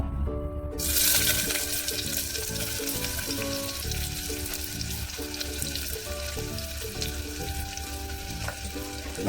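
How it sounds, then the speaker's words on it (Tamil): Onions fry in a pan for chicken chukka, giving a steady, close, dense sizzle throughout, with faint background music running underneath. "வெங்காயத்தையும் போட்டு நல்லா வதக்கணும்"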